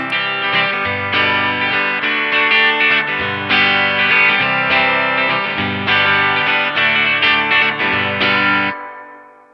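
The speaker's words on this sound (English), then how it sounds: "the reverb is just the classic Fender reverb spring" An electric guitar through a Line 6 POD plays a loud chord riff with a splashy Fender-style spring reverb tail ringing out after the final strum.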